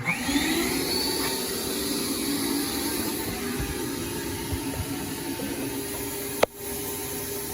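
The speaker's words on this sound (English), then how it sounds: "So now, take your shop vac, turn it on." A shop vac runs loud and steady throughout while cleaning a fuel filter screen on a 1994-1997 OBS 7.3 diesel, ending with a sharp click or knock near the end.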